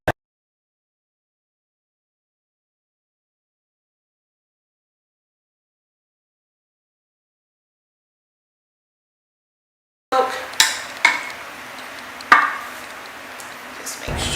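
A vegan chicken mixture seasoned with liquid smoke is stirred in a bowl: after a long silence, a few sharp utensil knocks and scrapes come close and fairly loud during the last four seconds.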